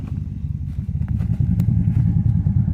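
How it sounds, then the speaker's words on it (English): A truck engine with a mild cam idles and rumbles through a single factory exhaust feeding a Flowmaster Flow FX muffler, a steady close low throb with slight lope and no talk. "Just going into the single factory exhaust into a Flowmaster Flow FX,"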